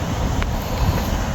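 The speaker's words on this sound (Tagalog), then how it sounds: "Mahangin." Steady wind buffets the microphone outdoors by the water on a bonefish fishing trip, a continuous broadband rush with no clear gaps throughout.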